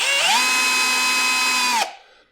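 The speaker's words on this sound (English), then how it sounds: "Next, I'm going to a very small drill bit." A power drill fitted with a very small bit, used on a 1996 Ford F-350 during a 2WD-to-4x4 swap, whines loudly and steadily at close range for nearly two seconds, then winds down and stops.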